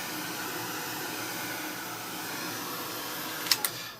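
A hair dryer blows hot air over wet paint on a painting, a steady close whooshing drone that holds throughout, with a couple of brief clicks near the end.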